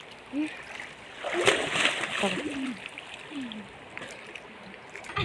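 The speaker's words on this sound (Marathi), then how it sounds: "विहीर आपल्या जे नवीन त्यातच पोहायला लागले दोघं बी" People swim in a water-filled well on a farm, producing irregular splashing and sloshing that rises and falls over several seconds while voices call out and talk nearby.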